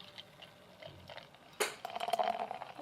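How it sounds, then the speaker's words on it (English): Jabali IPA beer poured into a Pilsner Urquell glass, a faint clink followed by a close, steady fizzing splash of liquid filling the glass for about a second. "let's pour this into my trusty Pilsner Urquell glass."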